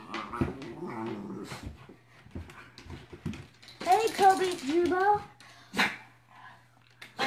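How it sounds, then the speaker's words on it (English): A big dog growls and whimpers during rough wrestling play, with a short run of throaty growls in the middle and a person talking before and around it. "I was just wrestling with a big dog"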